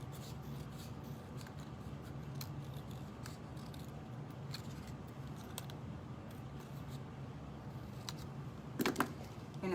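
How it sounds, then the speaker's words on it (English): Scissors trim a sheet of paper for a layered fun-fold card, making soft repeated close snips and rustling paper scrapes at a steady, quiet pace, with a slightly louder rustle near the end. "I'm going to cut that down just ever so slightly."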